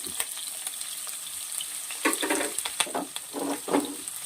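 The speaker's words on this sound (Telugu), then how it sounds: "వీటిని బాగా వేయించాలి" Chopped onion and green chilies frying in oil with bay leaves, a steady mid-level sizzle that grows busier in the second half with bursts of crackle and spitting, no voices.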